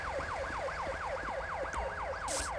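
Ambulance siren in the video game GTA V, a fast rising-and-falling wail repeating evenly and loudly throughout over low traffic rumble.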